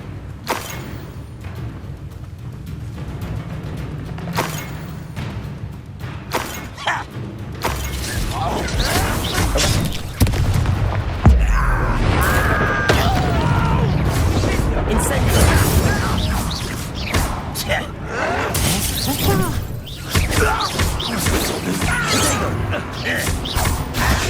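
Fiery Confringo spell blasts in the Hogwarts Legacy video game, with crashing, creaking and mechanical impacts throughout a loud, busy battle, mixed with voices.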